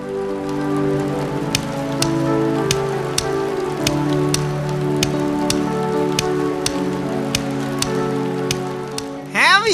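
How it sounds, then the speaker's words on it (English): Heavy rain pours steadily during a flood, a constant close hiss with regular faint ticking drops, alone until a brief voice cuts in at the very end. "The rain is getting worse now."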